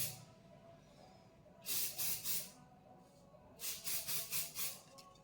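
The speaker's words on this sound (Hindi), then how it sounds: "तो देखो अभी मैंने स्प्रे मार लिया है, अब मैं जैसे चाहूँ वैसे बाल झाड़ सकता हूँ।" Hair spray from an aerosol can, given three short bursts and then a second set of about four quick bursts, each a close, sharp hiss over quiet room background.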